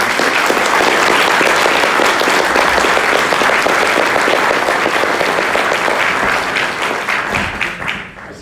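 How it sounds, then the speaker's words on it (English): Audience applause for a panel at a diplomacy forum, loud, dense clapping from a full room sustained for several seconds before tapering off at the end. "I'd just like to give our panel a big round of applause."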